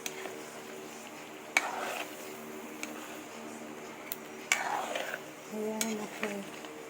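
A pot of Bicol-style beef caldereta with coconut milk is stirred, with occasional spoon knocks and scrapes against the pot over a faint simmer and low background hum.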